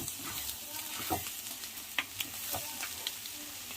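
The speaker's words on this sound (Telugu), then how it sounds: "ఇప్పుడు దీంట్లో కొద్దిగా క్యారెట్ ఇంకా కొద్దిగా ఆనియన్స్ కూడా వేయాలి. కలుపుకోవాలి." Carrot and onions stir-fried with egg in a pan for millet noodles produce a quiet, steady sizzle broken by irregular scrapes and clicks of stirring.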